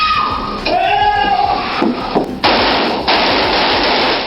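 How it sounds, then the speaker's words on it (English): Loud bursts of gunfire crack and echo through a public library, with sharp reports and a broad noisy wash of sound following them. "the sound of gunfire echoed through the bookshelves"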